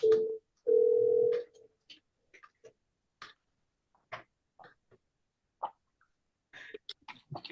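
A telephone handset gives two short steady dial-tone bursts, followed by a scattering of faint, brief dialing clicks and beeps in a quiet room.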